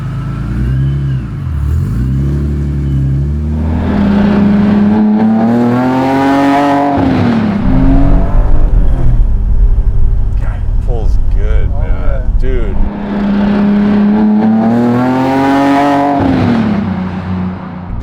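A supercharged BMW E30 Touring wagon engine, making 470 hp at the wheels, revs and accelerates with a rising whine, surging twice over steady road rumble, while people talk over the noise.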